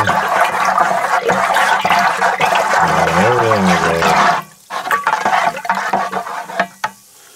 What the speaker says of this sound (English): And making sure to get all the yeast that's on the bottom, give it a good stir.